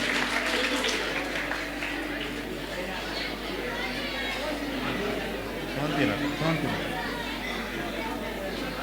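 An award ceremony audience claps and applauds steadily throughout, a dense wash of clapping mixed with crowd chatter and voices.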